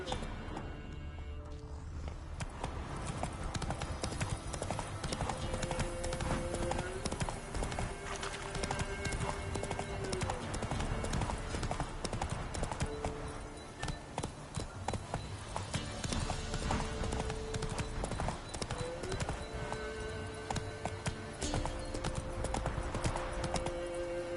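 Hooves of Roach, the horse in The Witcher 3: Wild Hunt on PS5, clip-clop steadily at a walk throughout, mixed with game music and ambience, with a voice speaking over it now and then.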